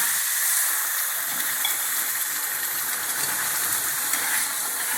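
A steady, even hiss and bubbling sizzle of sugar syrup boiling in a pan for Mysore pak, continuous and close, with no voices.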